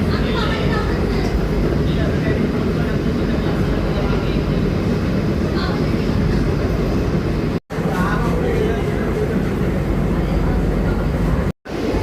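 A Medha AC local train running from Borivali to Virar, a loud continuous rumbling interior roar of wheels and motors at speed, heard from inside the carriage with brief dropouts and muffled talk.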